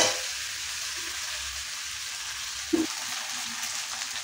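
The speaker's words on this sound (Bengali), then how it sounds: "তো আদা রসুনের গন্ধটা যাতে কেটে যায় ভালো করে ভেজে নেবো।" Ginger garlic paste fries in a pan with a steady, soft hiss of oil, with a single brief knock partway through, close-up with no talk.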